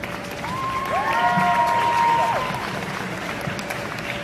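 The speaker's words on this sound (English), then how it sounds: "give a nice round of applause and healthy New York welcome" A New York audience applauding steadily for several seconds, with a whistle-like tone sliding through the middle of the clapping.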